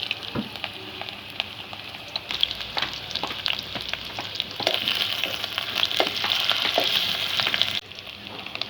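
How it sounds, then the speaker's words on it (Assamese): Potatoes fry in hot oil in a wok, giving a steady close sizzle with bursts of spattering and occasional stirring scrapes. The frying grows louder midway, then drops suddenly near the end. "এয়া আলুকেইটা ফ্ৰাই কৰি লৈছোঁ তেলত"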